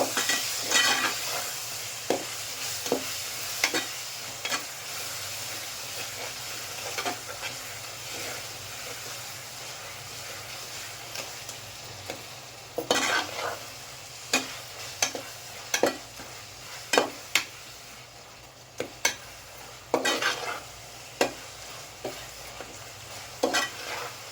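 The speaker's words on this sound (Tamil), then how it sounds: "தக்காளி நல்லா வதங்கிடுச்சு" Tomatoes sautéing in a pan for a mutton and broad bean curry hiss quietly while a spoon scrapes and clacks against the pan in irregular bursts of stirring.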